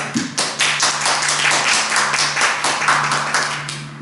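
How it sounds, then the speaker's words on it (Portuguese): Church congregation applauding after a prayer, a dense burst of many hands clapping close and loud over a faint steady hum, sustained for about four seconds. "Vamos aplaudir o Senhor, que Ele merece toda a honra, toda a glória"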